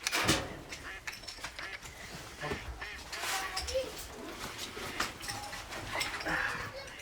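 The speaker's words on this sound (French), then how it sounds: "Des canards d'élevage sont disposés un peu partout sur le plan d'eau. Leurs chants vont attirer leurs cousins sauvages." Farmed decoy ducks set out across a hunting pond give scattered quacking calls, irregular and fairly faint amid outdoor noise and rustling.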